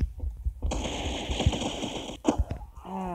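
Gunfire in a laggy online video game: rapid bursts of shots crackle in close succession over a dense, steady background of game noise, with nobody talking.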